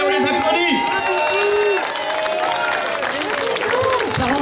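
An outdoor crowd at a French town festival applauds and cheers, dense clapping under lively overlapping voices and chatter, loud and close throughout.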